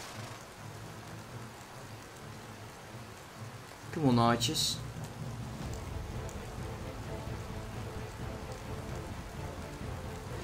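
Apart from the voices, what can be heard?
rain in the video game Mount and Blade Warband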